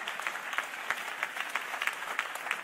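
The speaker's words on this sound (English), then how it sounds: "You can clap better than that because I'm talking to you." Congregation at a church service applauding, a steady wash of many hands clapping with uneven bursts, moderately faint and continuous with no voices over it.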